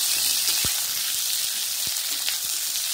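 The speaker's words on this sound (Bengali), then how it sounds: "দেখুন আমার ডিমও মোটামুটি বেশ সুন্দর লাল লাল হয়ে ফ্রাই হয়ে গেছে" Eggs fry in a little oil for an egg curry, giving a steady, close sizzle broken by a few light taps as they are stirred.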